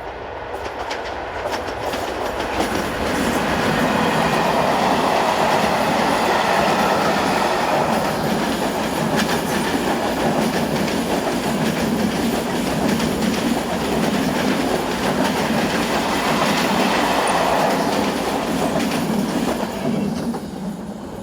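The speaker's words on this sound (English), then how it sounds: "And here is the train that it was waiting for" A Slovak train headed by a 383-series locomotive rumbles steadily past nearby on a Tatra Mountain route for the whole stretch, with a continuous roar of wheels and faint rhythmic clatter on the rails.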